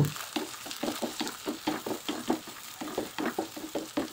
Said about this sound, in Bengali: এগুলো একটু সফট করে ভেজে নিব।